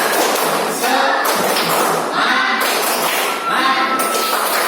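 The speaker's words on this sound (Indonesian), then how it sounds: "Sekali lagi tepuk semangat" A group of children perform the rhythmic "tepuk semangat" clapping chant in a classroom, dense busy claps and thumps running steadily throughout with voices mixed in.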